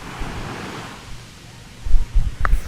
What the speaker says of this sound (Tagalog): Kita nyo, ang lakas ng alon.